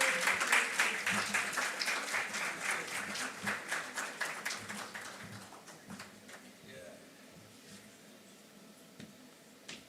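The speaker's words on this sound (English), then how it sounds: "I would like to welcome on stage with a huge round of applause" Conference audience applauding to welcome a speaker on stage at a healthcare technology event, steady clapping swelling at the start and then gradually thinning out, with a voice heard faintly beneath.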